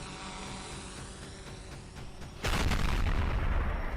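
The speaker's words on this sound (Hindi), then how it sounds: "तभी जोरदार धमाका होता है।" A Russian strike hits a settlement in eastern Ukraine: a steady high buzzing whine runs for about two and a half seconds, then a sudden loud explosion bursts in and leaves a heavy, sustained roaring rumble, with no voices.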